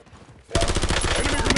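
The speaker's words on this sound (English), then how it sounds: "Incoming shots!" Rapid automatic gunfire in Black Ops 7 erupts after a short quiet lead-in, a loud, dense, continuous burst of shots that holds steady to the end, with a voice mixed in underneath.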